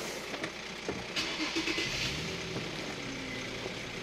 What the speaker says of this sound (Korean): 시동부터 한번 걸어보도록 하겠습니다